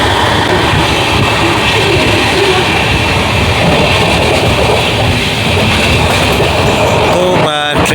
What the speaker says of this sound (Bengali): স্টেশন ইছাপুর ক্রস করছে রাধিকাপুর এক্সপ্রেস।